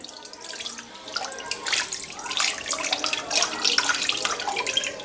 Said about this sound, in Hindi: ये पानी हम इसके ऊपर डालेंगे और इन्हें गीला कर लेंगे